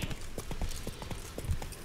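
A horse's hooves clip-clop in a quick, steady gait across hard ground in The Witcher 3, close and clear over faint background ambience.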